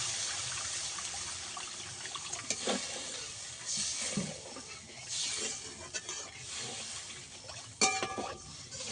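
Water poured into a pan of frying fish masala, for a Dala fish curry with mustard and poppy seed, gives a watery trickling hiss and sizzle with scattered stirring scrapes and clinks, fairly close and moderately loud.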